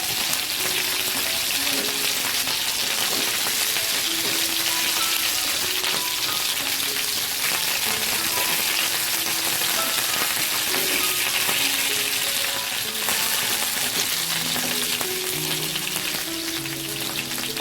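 Crispy tofu sizzles and spatters steadily in hot oil in a pan, a dense, continuous frying hiss with scattered pops throughout, close and loud, no talking.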